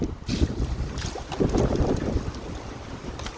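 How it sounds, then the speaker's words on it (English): Gusting wind at a truck campsite on crown land, roaring and buffeting the microphone in uneven surges, loud and close, with no voices. "Oh, that wind's picking up."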